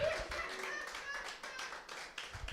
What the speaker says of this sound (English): keep those claps going